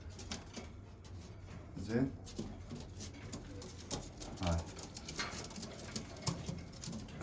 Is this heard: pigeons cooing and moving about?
yes